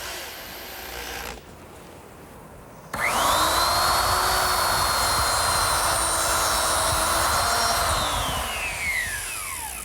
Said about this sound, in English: I made a slot with my plate joiner for a biscuit